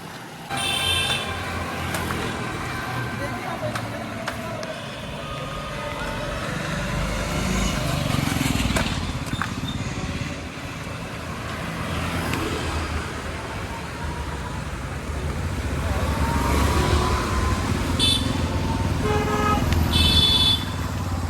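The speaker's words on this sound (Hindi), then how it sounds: "फिर से बार बार गाड़ी इधर ले आ रहा है वाइट इसमें पट्टी पे" Cars and other vehicles pass close along a road, with a steady broadband traffic rumble rising and falling and a few short horn toots, heard at length with no talk.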